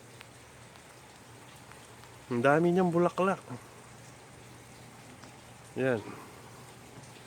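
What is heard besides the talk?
rain falling during a storm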